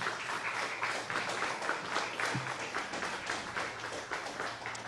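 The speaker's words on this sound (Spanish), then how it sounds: "denle un fuerte aplauso" A church congregation in Bakersfield, California gives steady, moderately loud applause to welcome an immigration lawyer as a guest, a continuous patter of many hands lasting several seconds.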